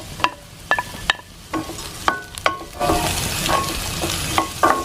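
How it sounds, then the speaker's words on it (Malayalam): Sliced capsicum and cabbage sizzle in a pan for American chopsuey while a spoon stirs them in quick repeated scrapes and clinks over a steady frying hiss, close up. "പിന്നെ ഈ ക്യാബേജ് നീളത്തിലരിഞ്ഞിടാം."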